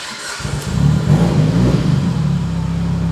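A Mitsubishi Evo 8 that had died and refused to restart fires up, settling into a loud, steady rumbling idle with a slight rise in revs, close by and with no talking.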